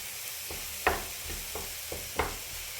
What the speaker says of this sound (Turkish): Bir yandan da ıspanağı karıştırmaya devam ediyorum. Hepsi eşit bir şekilde kavrulsun.